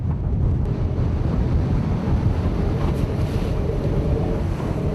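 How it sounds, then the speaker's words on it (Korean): Rough open sea pounds around a fishing boat out for yellowtail in worsening wind and rain, a dense, constant wash of crashing waves and gusting wind buffeting the microphone, loud and unbroken with no voices. "거센 파도가 배전을 집어삼킬 듯 몰아치는 바다 한가운데서"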